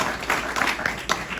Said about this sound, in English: I didn't mean to cut off the applause